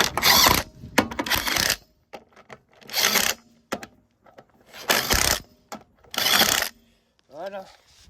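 A 17 mm socket works on a fastener on a Mercedes: close, loud bursts of metallic ratcheting and rattling alternate with quiet gaps and small scattered clicks.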